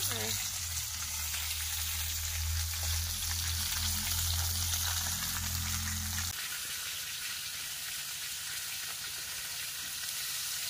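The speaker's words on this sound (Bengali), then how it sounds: "এই যে মাছ ভাজা হচ্ছে এখানে।" Continuous sizzling of pomfret frying in oil, close up, with a low hum that drops out partway through while the crackle carries on.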